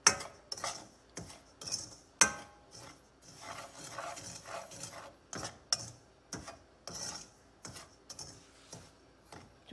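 Semolina (suji) roasting in a pan over low heat, stirred with a spoon: repeated close scraping and rasping strokes in an uneven rhythm, with no one talking.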